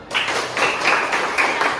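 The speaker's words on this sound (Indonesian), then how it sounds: "Tepuk tangan." Hands clap steadily and briskly in a classroom during a presentation on economic activities, a fairly close, continuous patter of claps that fills the short moment without any talk.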